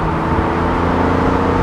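A 2007 BMW Z4 M Roadster cruising at speed gives a steady, loud mix of engine drone and road and wind noise, with no talk over it.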